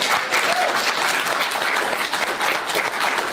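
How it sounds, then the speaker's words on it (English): An audience at a political speech breaks into sustained, dense applause, a steady wash of many hands clapping throughout. "It's like almost somebody was ready for the claps."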